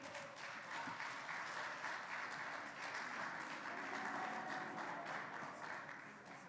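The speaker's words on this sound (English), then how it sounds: "Can we please give her another round of applause?" A conference audience applauds after a presentation in a meeting hall, a steady, even wash of many hands clapping that sounds somewhat distant and subdued and holds through the whole stretch with no talking.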